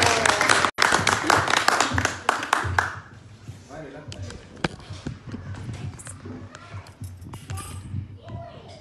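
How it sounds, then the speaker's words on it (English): An audience claps together at a Srimad Bhagavatam Saptah gathering in Austin, Texas. The clapping is dense and lively for about three seconds, then drops away to a quieter room with scattered taps and voices. "Clapping, Baba."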